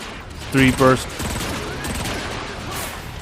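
A three-round burst rifle fires in the Transformers: Fall of Cybertron video game, with two quick, loud, close bursts in rapid succession followed by lingering game noise and some voice.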